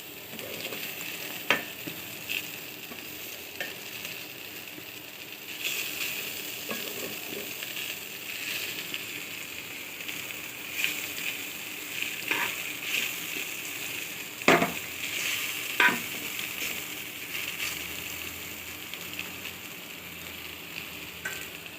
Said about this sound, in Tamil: கிளறி விட்டு நல்லா வதங்கட்டும்